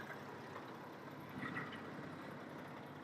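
A tractor trailer truck's engine idles with a steady, low, even rumble, faint and continuous throughout with no talking.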